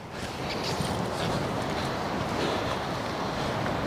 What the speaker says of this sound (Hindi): इस टाइम लहरें जो है वो ऊपर आ रही हैं